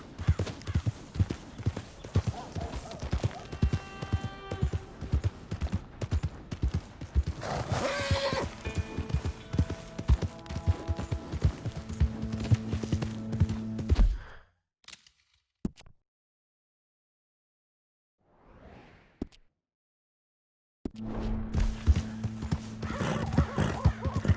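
Hoofbeats clip-clop steadily from a horse in Red Dead Redemption 2, with neighs and whinnies over game music, broken by a few seconds of near silence before the galloping resumes.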